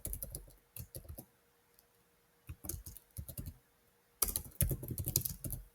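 Typing on a computer keyboard, close clattering bursts of keystrokes separated by pauses, ending in a denser, louder run of keys, no talk.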